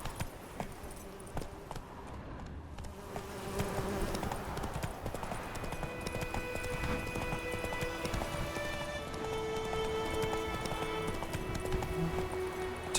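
Horse hooves clip-clopping steadily in The Witcher 3: Wild Hunt, a continuous trotting rhythm near and moderately loud, with ambient game background and a brief whinny-like tone.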